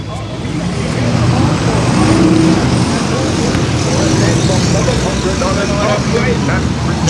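Road traffic in Mandeville town, a dense steady roar of engines and tires from nearby vehicles, with people talking over the constant noise.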